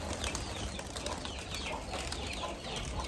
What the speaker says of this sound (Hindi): कबूतर खोल दिए हैं।